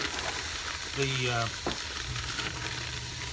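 Ground meat and translucent onions sizzle in a pot for chili, a steady fry with stirring scrapes and a short voiced sound partway through.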